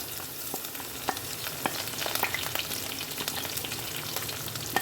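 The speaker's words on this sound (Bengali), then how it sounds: "এবার এই তেলের মধ্যে আমি দিয়ে দেব কুচিয়ে রাখা রসুন আর কাঁচা লঙ্কা" Chopped garlic and green chilies sizzle in hot oil in a home kitchen, a soft continuous crackle with scattered sharp pops and occasional stirring scrapes, fairly quiet and close, with no voices.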